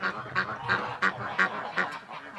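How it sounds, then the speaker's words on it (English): A goose gives a run of repeated nasal honks at a steady, fairly quick rhythm, moderately close, with faint background noise and no talk. "Come on out, you goose."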